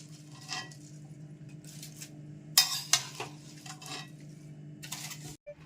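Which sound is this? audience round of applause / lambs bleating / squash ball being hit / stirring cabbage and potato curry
stirring cabbage and potato curry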